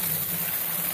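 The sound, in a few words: water poured from a pitcher into a bucket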